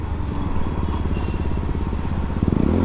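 A motorcycle ridden on a road in India, its engine running loud and close with a steady throbbing rumble that pulses faster near the end, no speech over it.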